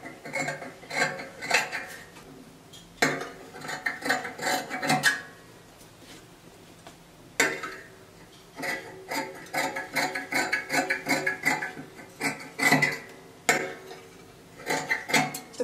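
Fabric for a dress facing is cut with scissors in repeated bursts of crisp snipping and rustling, close and moderately loud, with short pauses between runs and no talking.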